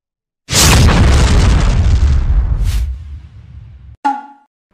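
A bombing effect goes off in a Chinese chess-style video game. A loud, sudden boom with a long rumbling roar fades over about three seconds, followed by a short, sharp pop and ring near the end.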